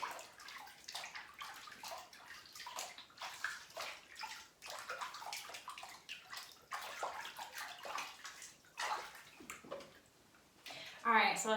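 A foot is lowered back into a basin of soaking pedicure water, giving close, steady sloshing and swishing that carries on throughout, with a brief voice near the end.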